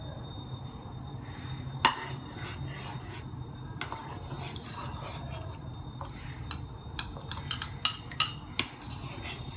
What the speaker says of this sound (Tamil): போட்டுட்டு நீங்கள் இதை கிண்டி கொண்டே இருக்கணும்.